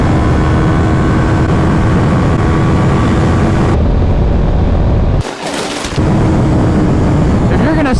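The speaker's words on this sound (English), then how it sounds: "My throttle is all the way open right now." Kawasaki Ninja 400 motorcycle engine held at full throttle on a freeway ride, a loud steady drone mixed with heavy wind rush, briefly dipping near the middle before surging back.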